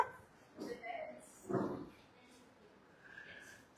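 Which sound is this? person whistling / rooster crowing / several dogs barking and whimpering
several dogs barking and whimpering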